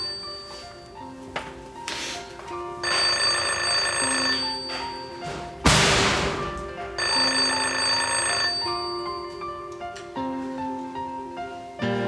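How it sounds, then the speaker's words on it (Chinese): A telephone rings over and over without being answered during a drama scene. Bursts of steady electronic ringing repeat at a fairly even pace, with one sharp noisy clatter midway. "电话哪拢无人接啊？"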